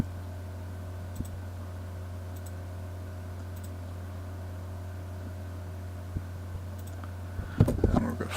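Soft, sparse mouse clicks while modeling a wooden stool in CAD software, isolated taps over a steady hum, with a brief busier clatter near the end.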